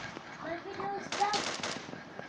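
Gunfire in the shooter game Kaboom, a few quick shots and bursts in a short busy stretch mixed with game sounds, with a voice talking over it.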